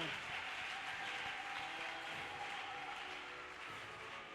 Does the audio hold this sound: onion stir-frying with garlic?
no